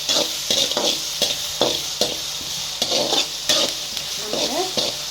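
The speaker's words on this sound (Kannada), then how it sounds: "ಚೆನ್ನಾಗಿ ಮೆರೂನ್ ಕಲರ್ ಬರೋವರೆಗೂ ಫ್ರೈ ಮಾಡ್ಕೊಂಡಿರ್ತೀವಿ" Onions frying in oil in a pan while being cooked for a leafy green stir-fry, with steady sizzling and repeated rhythmic stirring scrapes throughout, close and fairly loud, no talking.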